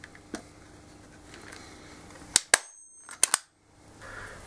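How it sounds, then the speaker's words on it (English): A staple gun fires sharp, loud snaps while fixing a Volkswagen Passat gear stick gaiter back onto its molding: four shots in two quick pairs, alone over a quiet background. "Now get a staple gun and staple back to the molding."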